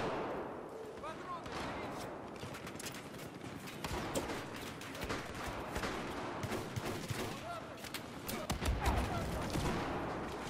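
Rapid bursts of gunfire in the video game Metro, dense crackling volleys and distant booms running continuously throughout, with players chatting over the shooting.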